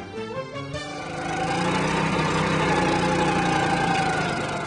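A Kwik Trench Little Beaver mini trencher's small engine runs steadily, its loud, dense mechanical drone rising and holding for several seconds, with no voices over it.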